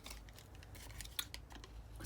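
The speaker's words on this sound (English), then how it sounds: "I'm not using the knife here, obviously, I'm using my scissors" Scissors snip along the edges of a vintage Kodak specimen slide mount, a few quiet, crisp cuts against low background hiss, with one sharper snip standing out.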